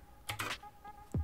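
Typing on a computer keyboard while building a Minecraft Bedrock add-on: a few quick clustered key clicks, close and fairly soft, with brief pauses between.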